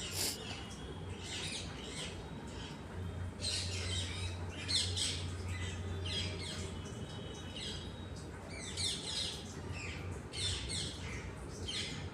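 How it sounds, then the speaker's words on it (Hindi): Pet parrots in a home squawk and chirp in bursts of shrill, scratchy calls, some overlapping, at moderate distance against a low steady hum, with no talk over them. "मेरे यहाँ के जो तोते हैं ना, देखो कितना आवाज़ कर रहे हैं"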